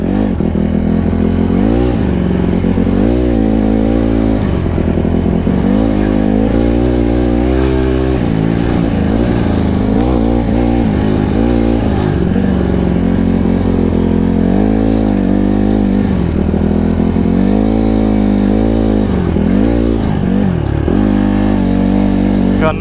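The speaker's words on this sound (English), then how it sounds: "why is my bike dying?" A Honda CRF150RB dirt bike engine, street-legal and losing power, roars loud and close, its pitch surging and sagging repeatedly as the revs rise and fall unevenly.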